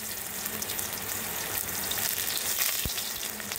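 Loud, steady sizzle of onions frying in a hot pan, a dense hiss filling the clip with a brief clatter near the end.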